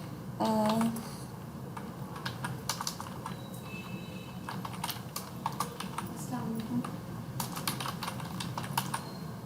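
Steady clicking of keystrokes on a computer keyboard while data is entered into point-of-sale billing software. The taps come in irregular bursts with short pauses, against a low room hum and a brief voice near the start.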